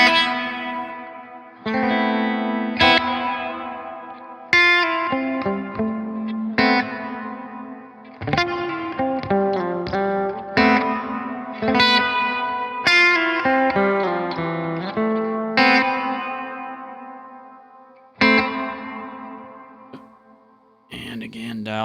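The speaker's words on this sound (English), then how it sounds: "this is one of the more beautiful hall sounds I've heard" Guitar played through a hall reverb pedal set for a long decay: struck chords and single notes bloom into lush, lingering tails that overlap and wash together, loud and continuous with no voices.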